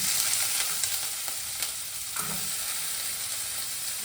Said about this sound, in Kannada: ಹಂಗೆ ಇಟ್ಟು ಎಣ್ಣೆ ಹಾಕೇನಲ್ಲ, ಅಲ್ಲಿ ನಾನು ಈ ತೆಂಗಿನಕಾಯಿ ಹಾಕ್ತೀನಿ.